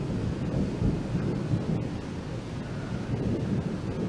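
Rain shower with distant thunder at sunset during monsoon season, heard as a steady low rumbling wash with wind buffeting the microphone throughout, no voices present.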